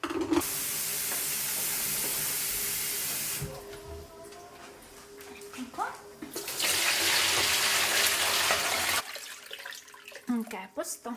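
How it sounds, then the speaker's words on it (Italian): Water rushes from a tap into a pot of already cooked tomatoes lined with a cloth, a loud steady hissing pour that stops, then resumes as a second long stream before ending in quiet handling clatter. "li mettiamo all'interno e copriamo tutto con l'acqua"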